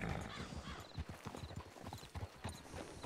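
Horse hooves clop in an uneven rhythm close by, fairly soft, with bursts of low rumbling movement and no clear talking over them.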